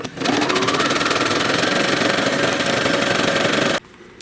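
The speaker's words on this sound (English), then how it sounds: "I'll sew all along this edge here, all around the bottom seam." A sewing machine runs steadily and loudly up close, its rapid needle chatter stitching the bottom seam of a Caneo layout blind for several seconds before it abruptly stops.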